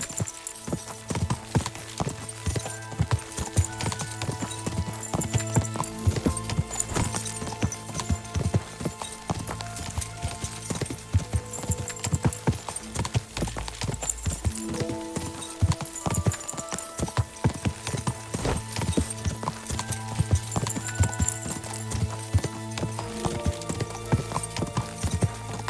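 A horse's hooves clip-clop in a steady rhythm through the medieval game world of Kingdom Come: Deliverance II, with occasional neighs, close and continuous over a faint ambient bed.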